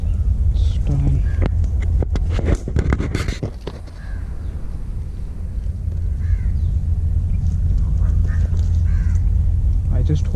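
Duck-like quacks and crow caws from a few birds near marshy water, scattered calls over a steady low rumble of wind or traffic, with talk in the background.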